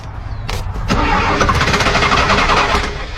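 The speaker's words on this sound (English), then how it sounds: "Sounds like the starter motor is kind of disengaging too." Old diesel car engine cranking on its starter motor with a faulty cracked exhaust, short bursts of starter whine giving way to a rough, loud, steady chugging clatter close by.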